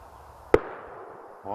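A single distant gunshot sounds during a spring woodcock hunt in Yaroslavl region, one sharp crack with a short rolling echo that fades over about a second, heard alone in quiet open country.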